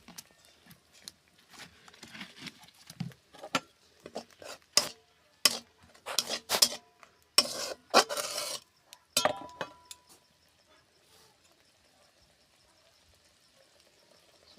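Fish head sizzles and gets scraped around a pan with mustard and poppy seed paste, giving irregular bursts of frying and stirring that thin out toward the end.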